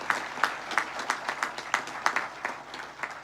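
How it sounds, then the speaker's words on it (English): Rhythmic, spread-out applause from a crowd at the Buffalo Bills stadium groundbreaking ceremony, with distinct regular clap peaks at a moderate distance, fairly faint and without speech. "So let's give a round of applause to the entire Pegula family."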